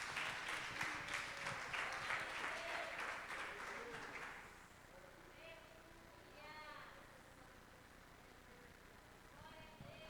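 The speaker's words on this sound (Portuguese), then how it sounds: "Você que crê, dá uma salva de palmas para o Senhor Jesus." A church congregation bursts into loud, sustained applause for several seconds, then it fades out and a voice speaks over the quieter hall.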